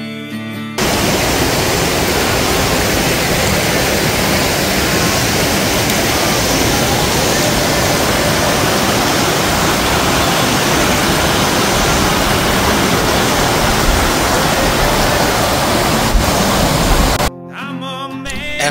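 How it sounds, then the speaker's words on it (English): Rushing water pours steadily past the water wheel at Turner's Mill in the Missouri Ozarks, a loud, continuous roar of churning river water that stops abruptly near the end. "This is the water wheel at Turner's Mill."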